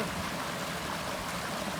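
Water from a motor pump pours in a steady rushing stream into a container out in a maize field, a continuous close, even splashing with no talk.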